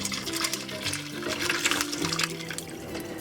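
Beef noodle soup broth pouring through a strainer into a pot, a continuous close, gurgling splash of liquid at a steady level throughout.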